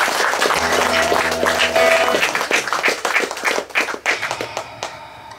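Audience clapping at a bard cafe, dense and steady at first, then thinning into scattered claps, heard alongside a held musical tone.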